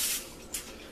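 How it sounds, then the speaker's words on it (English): A short hiss of aerosol spray bursts out, pauses briefly, then a second quick spritz follows, close by. "just a quick spray of cooking spray"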